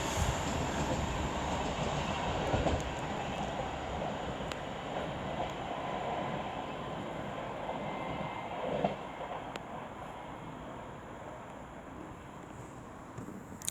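An Avanti West Coast Class 390 train rolls into Coventry station, a fairly soft, sustained rumble of rail noise heard from a distance with a few faint clicks along the way.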